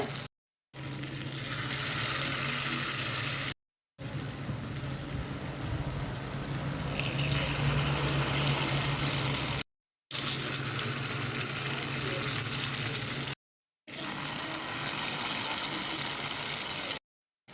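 Sweet potato balls fry in hot oil in a paniyaram pan on a low stove, a steady close sizzle with brief breaks between stretches of bubbling.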